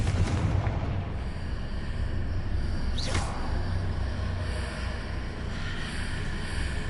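Blast from the Confringo explosion spell in a Harry Potter-style video game: a sharp burst over a steady rumbling background, heard once and fairly distinct.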